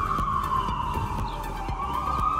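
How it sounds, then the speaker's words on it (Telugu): A siren wails steadily with a slowly sliding pitch in the USA, loud and continuous across the clip, with faint traffic rumble beneath. "సైరన్ మోగుతుంది ఎప్పుడు చూడు, మాట్లాడుతున్నప్పుడల్లా సైరన్ మోగుతుంది"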